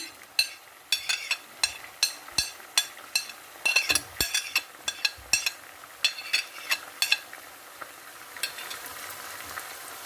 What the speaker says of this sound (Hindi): और इसको हम अच्छे से मिक्स करते हैं।